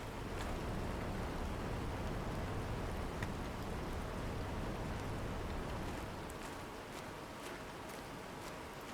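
Steady rain falls in Planet Crafter, a continuous dense hiss of drops with faint scattered patters, evenly loud throughout and easing slightly near the end, with no voices.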